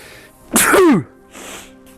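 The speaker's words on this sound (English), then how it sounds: "I'm going to sneeze." A single loud, sharp sneeze bursts out close up, followed by a softer exhale.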